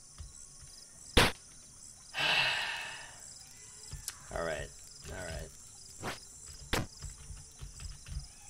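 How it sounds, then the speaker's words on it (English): Insects, cicadas or crickets, chirp in a steady, thin high-pitched drone throughout. Breaths and a brief spoken remark sit over it, along with a few sharp clicks. "I'm starting to get tired of hearing cicadas."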